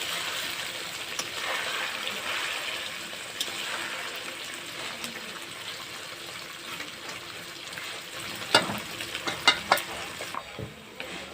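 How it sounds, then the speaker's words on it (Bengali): Small morola fish fry in hot oil with a soft, continuous sizzle and occasional stirring. Near the end a few louder clinks of a utensil against the pan stand out. "मोरला माछगुलो भेजे निচ্ছি।"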